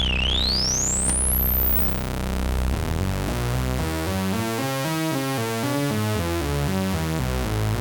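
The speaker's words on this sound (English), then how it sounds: "you can hear that high pass filter is affecting that there" A buzzy Behringer Odyssey synthesizer tone with a high-pass filter sweeping across it, thinning and reshaping the sound, loud and continuous with a rising chirp early on.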